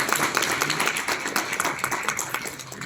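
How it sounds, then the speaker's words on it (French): A conference audience applauds two voice actors, a steady wash of many hands clapping at moderate distance, with faint talk mixed in. "on peut encore les applaudir si vous voulez"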